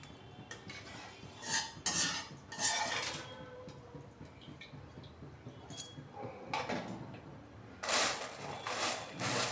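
A kadhai being emptied of oil clanks and scrapes in short metallic bursts against utensils, close but fairly quiet, with a louder sustained scraping rasp near the end and no speech.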